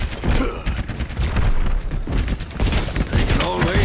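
Rapid bursts of enemy turret gunfire in the Overwatch beta on Xbox One, loud and close, with sustained rattling volleys and booming impacts filling the scene, a voice occasionally speaking over the din.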